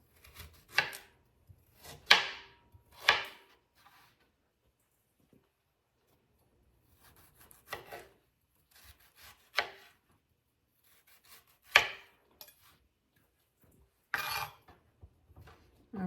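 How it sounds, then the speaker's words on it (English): A knife slices beets into 1-inch rounds on a cutting board, with sharp, separate chops spaced by pauses of near silence, close and fairly loud. "I'll take my beets and I'm gonna cut them into 1-inch slices."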